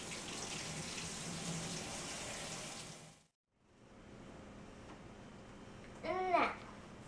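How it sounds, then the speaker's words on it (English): Water runs from a tap as hands are washed at a sink, a steady broadband rush that cuts off abruptly midway, then resumes more quietly with a brief splashy burst near the end; no one speaks. "we have to wash our hands"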